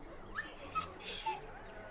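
A dog in the Dragon Age: Origins video game lets out two short, high whimpering whines, faint and close, with no voices over them.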